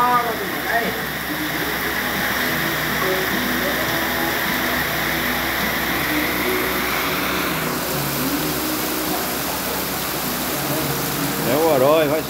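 Heavy rain and rushing runoff water in the town of Orós, Ceará, make a loud, unbroken roar that lasts the whole time, with faint voices briefly rising near the end.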